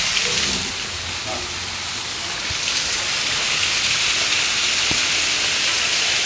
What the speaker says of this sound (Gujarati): વરસાદ પણ જોરદાર આવે છે.